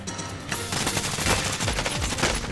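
An AN-94 rifle firing in Warzone: rapid, loud automatic bursts crack one after another at close range for the whole stretch, with no talk over them.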